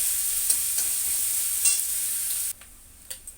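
Onions frying in hot oil give a loud, steady sizzle marked by a few sharp stirring scrapes. The hiss drops away abruptly near the end, leaving only faint clicks.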